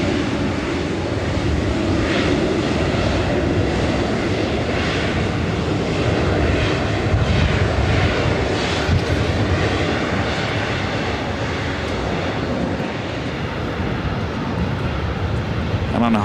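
Lufthansa Boeing 747 approaching LAX, its engines a steady, loud, broadband roar that swells slightly as the jet passes near overhead, with people talking over it.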